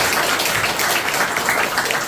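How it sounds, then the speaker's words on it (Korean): Audience clapping in response to a speaker at a gathering, a dense steady patter of many hands at moderate loudness, brief and continuous with no voices over it. "박수 치시오."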